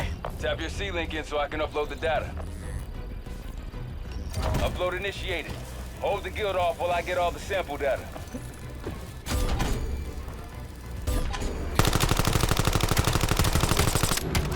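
Gunfire in Black Ops 7 co-op, rapid automatic bursts mixed with mechanical clatter and a loud harsh rush near the end, heard under steady talking throughout.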